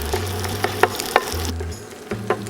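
An egg fries in a hot pan after being flipped, with the heat just switched off: a steady hiss with scattered small pops and crackles, close and fairly loud, that briefly drops away before resuming.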